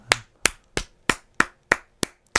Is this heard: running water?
no